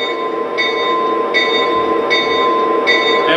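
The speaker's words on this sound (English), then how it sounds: "Once I get to speed step 23, the bell will turn on." The bell of a Lionel Legacy RS-11 model train locomotive rings four times at an even, regular pace, a clear bright tone sitting over a steady low motor hum.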